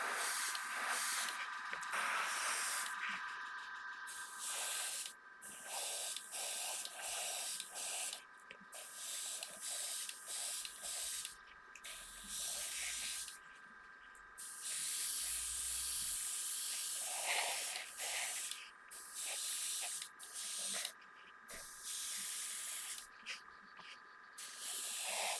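A spray can lays lacquer gloss onto an Aoshima 1/24 Knight Rider model kit. Bursts of hissing spray start and stop at irregular intervals over a steady background hum, fairly faint and with no talk.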